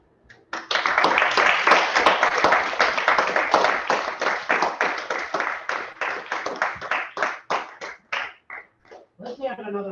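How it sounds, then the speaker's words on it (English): Audience applause at a gathering, dense clapping from many hands that starts abruptly, holds strong, then thins into slower, separate claps before a voice begins speaking at the end. "Let's have another round of applause."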